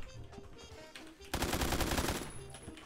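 An AK rifle in the game Roblox fires a rapid automatic burst, a loud rattling string of shots that follows a quieter stretch of game sounds.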